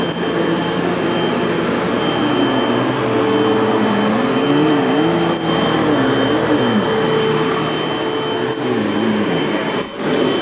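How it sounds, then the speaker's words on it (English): A Hoover Elite Rewind bagless upright vacuum sucks against carpet with a steady, loud roar and a whining tone that wavers up and down throughout, with no voices. "you can actually hear it sucking into that carpet"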